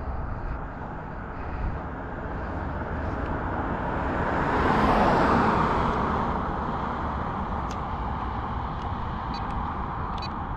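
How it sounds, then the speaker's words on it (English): A car passes along a road, its steady roadway rumble swelling to a peak near the middle and easing away again; no talk over it. "Wait for this car to go by."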